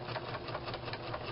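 Sewing machine stitching fabric for an Easter basket project, a steady continuous whirring drone with rapid needle rhythm, close and fairly loud, running alone without talk.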